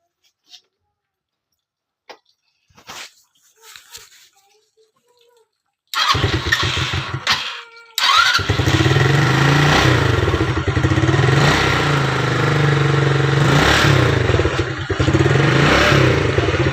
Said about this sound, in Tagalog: flex ko lang yung motor kong Barbaro. Flare Rossi 125